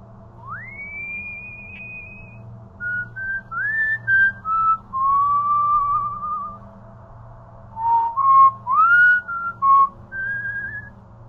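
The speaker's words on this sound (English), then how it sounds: "It's this very sonorous, very measured whistle seems to be coming from someone rather than an instrument, echoing down one side of this place" A person whistles a slow, measured melody of long sustained notes and gliding pitches that echoes down a hallway, clear and alone with a faint low hum underneath.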